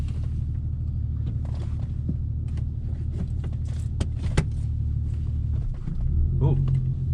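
A 2000 VW GTI's engine rumbles low and steady inside the car on a test drive, with scattered clicks and rattles from the cabin, muffled voices, and a rise in engine note near the end.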